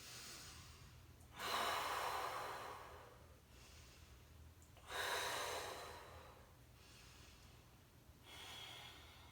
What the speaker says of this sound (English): just long deep breathing